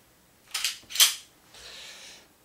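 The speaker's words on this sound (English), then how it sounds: "I guess, now unload the pistol." An H&K P2000SK compact pistol is unloaded at close range: two sharp metallic clacks of the slide and magazine half a second apart, then a brief softer sliding rasp.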